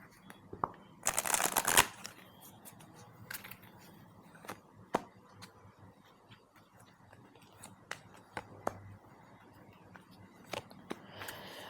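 Oracle cards being shuffled, a loud riffling burst near the start followed by scattered soft ticks and card taps against a quiet background.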